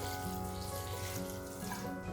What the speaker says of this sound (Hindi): और इसमें ऐड करेंगे हम पानी,